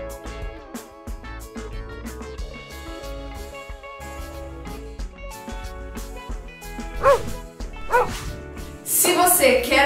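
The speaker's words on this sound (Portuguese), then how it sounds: "Segue a vinheta." A short musical intro jingle for a dog-training channel plays with bright tonal notes and rhythmic hits, building to a louder, busier burst at the end, with no talking.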